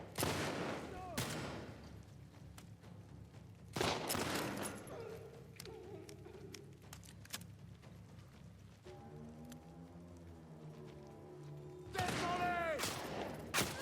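Gunfire in the video game The Last of Us Part II comes in loud bursts at the start and end, with quieter game sounds and a brief voice between.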